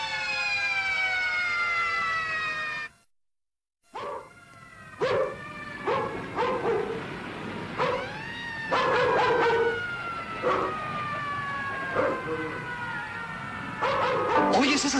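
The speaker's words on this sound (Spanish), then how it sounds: "¿Oyes esas sirenas? Son para ti." Sirens from Red Cross, fire and police vehicles sound in a Mexican Santa Claus film: long overlapping wails and rising whoops, broken by a brief dropout, mixed with repeated dog barks throughout.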